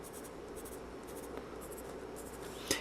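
Pencil scratching steadily across paper, faint and close, in short repeated strokes with a small tap near the end.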